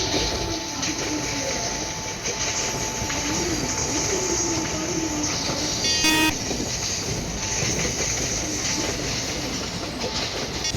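Tamil Nadu superfast express train pulling out on its run from New Delhi toward Chennai Central, a steady close rumble of rolling wagons with faint rail clatter and a brief high squeal midway.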